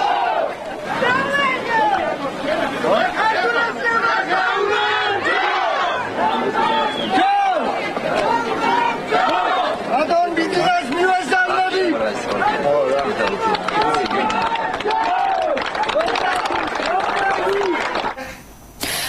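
A crowd greets Georgian politician Bidzina Ivanishvili with loud shouts and cheering at a holiday gathering, many voices overlapping in a dense, continuous babble close by.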